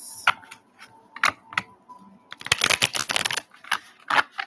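A deck of cards is riffle-shuffled nearby, with a few light taps and then a quick, dense burst of flapping cards, without speech.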